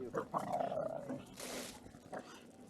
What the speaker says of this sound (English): More angry dogs.